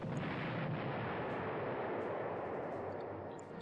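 An artillery attack in the WWII strategy game Panzer Corps, in a scenario at Medenine, rolls out as a dense, continuous roaring barrage of blasts that stays loud throughout and fades slightly at the end, with no voices.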